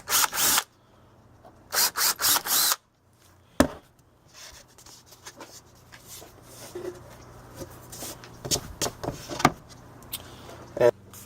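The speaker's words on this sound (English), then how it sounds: "Drill out your pilot holes." A power drill bores pilot holes into a board in several loud bursts, whining in short runs with pauses and handling noises between them.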